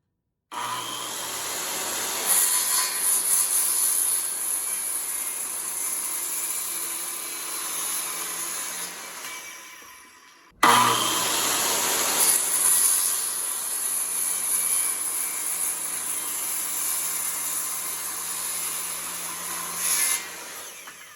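A Makita 5007MGA sidewinder circular saw whines loudly through two long cuts in wood, each running about ten seconds, separated by a brief pause as the blade spins down and starts again.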